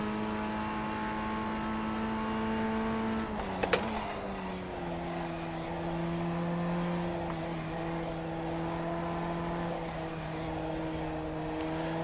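A race car in the iRacing video game drives through a corner, its steady engine drone briefly cut by a sharp clicking lift midway before settling into a lower, sustained hum.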